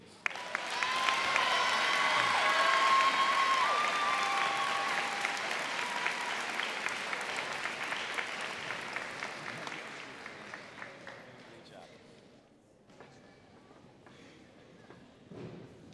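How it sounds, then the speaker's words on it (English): A school senior convocation audience applauds a student receiving the 2023 Senior Math Student of the Year award, dense steady clapping that builds, holds and then thins out gradually toward the end. "Another round of applause also for Mr. Nudzwicki."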